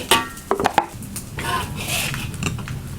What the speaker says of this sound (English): Push the rice to the side of the wok.